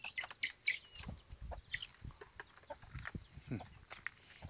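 Chickens clucking and squawking nearby in a farm's chicken run in Udon Thani, Thailand, several birds calling irregularly over soft rustling farmyard background.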